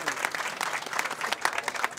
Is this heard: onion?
no